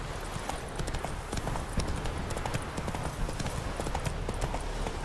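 Roach the horse gallops in The Witcher 3, rapid rhythmic hoofbeats pounding close and loud without pause across the whole stretch.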